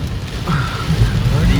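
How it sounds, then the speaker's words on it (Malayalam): Heavy rain pours down during a thunderstorm while a car drives through it, giving a dense, steady rushing wash. A voice talks over the downpour. "ഒരു രക്ഷയില്ലാത്ത ഇടിയും മിന്നലും മഴയും"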